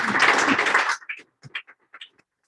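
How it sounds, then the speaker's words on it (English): A board of education meeting audience gives a short burst of applause lasting about a second. It cuts off abruptly and leaves faint scattered taps and small sounds in an otherwise quiet room. "Let's give her a round of applause."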